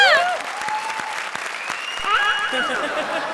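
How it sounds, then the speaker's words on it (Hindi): A TV comedy show's studio audience breaks into loud, sustained applause, with clapping and crowd noise throughout and gliding whistle-like tones sounding over it. "जोरदार तालियां।"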